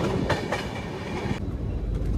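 A long-distance express train bound for Dehradun rumbles along the rails, a loud continuous roar from on board with faint rhythmic clatter and no voices.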